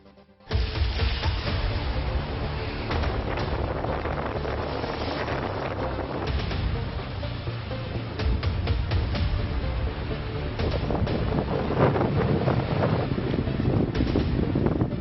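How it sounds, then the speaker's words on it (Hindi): Strong wind roars and buffets the microphone continuously after a brief quiet start, with gusts surging and fading throughout. "कहीं तेज हवाएं"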